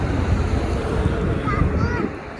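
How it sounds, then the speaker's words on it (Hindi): Strong wind sweeping across open village fields a couple of hours outside Delhi, roaring and buffeting the microphone in a loud, steady rush with faint whistling tones near the end. "खेत देखो भाई, कितनी हवा चल रही है ना इधर"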